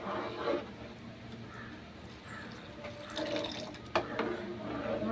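Coconut milk is poured into a thickened porridge made with karinochi leaves, a soft, faint liquid trickle with light splashing and a sharp clink near the end. No one speaks.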